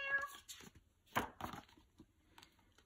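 A cat sound effect from a children's read-aloud about raccoons: a few short meows that rise and fall, spaced across the moment, moderately loud and alone.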